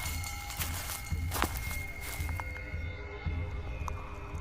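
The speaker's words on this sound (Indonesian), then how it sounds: "terdengar langkah kaki orang berjalan yang mengikuti kami" Steady footsteps thud along at a walking pace under a constant low hum, with a few sharp ticks and scrapes.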